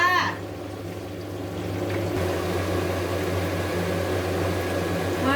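Chicken drumsticks fry in oil under a lid, giving a steady, muffled sizzle that hisses continuously over a low hum, with no breaks.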